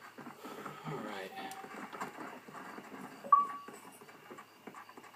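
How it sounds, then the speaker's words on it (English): Horse hooves clop as a horse is ridden in Red Dead Redemption on Xbox 360, a soft rhythmic patter under someone talking over it, faint and fairly distant. "So riding your horse."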